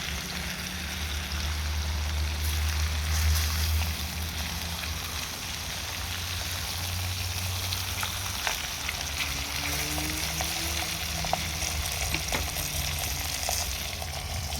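Pieces of beef brown in a hot pan for a Moroccan beef tajine, giving a steady close sizzle with light crackles and occasional soft stirring sounds, no voices.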